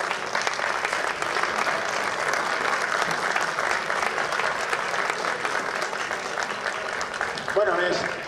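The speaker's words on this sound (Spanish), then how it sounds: "Ahora sí, un aplauso para ellos dos." An audience applauds steadily for two costumed performers at a historical reenactment event in Villena, a dense wash of clapping that holds for several seconds before a voice breaks in near the end.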